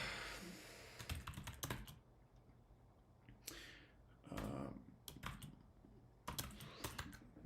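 Keystrokes on a computer keyboard while writing code, clicking in quick bursts with short pauses between, close and fairly quiet in a still room.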